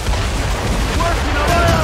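Ship cannons fire during a naval battle in the video game Assassin's Creed Rogue, a loud, dense rumble of booming blasts that fills the whole clip, with shouted voices over it.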